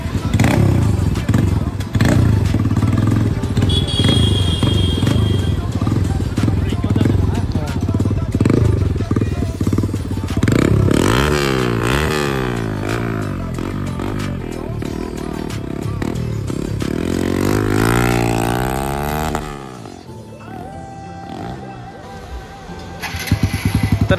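A Hero Xtreme 125R motorcycle fitted with an Akrapovic exhaust fires up and revs repeatedly, loud and close, the pitch sweeping up and down through several throttle blips before settling into a rough idle.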